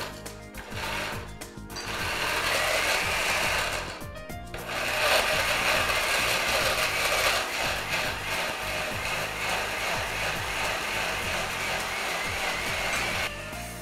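A kitchen blender grinds ice cubes with spinach and carrots for a vegetable shake, running loud and close in two sustained bursts with brief pauses between, rough and gritty as the ice breaks up.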